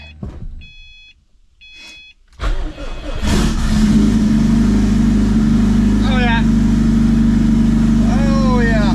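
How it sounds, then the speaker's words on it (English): A twin-turbo Subaru engine cold-starts after a few chimes and clicks, cranking and catching into a loud, steady idle with a couple of brief revs rising over the rumble. "let's get an old cold start in our boy"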